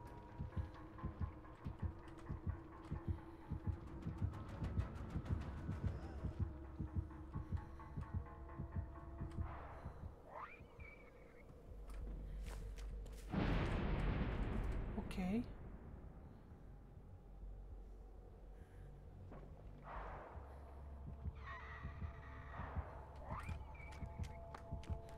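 Rhythmic heartbeat thumping from the Dead by Daylight video game, a steady low pulse running under gameplay sounds, with a louder burst of noise partway through.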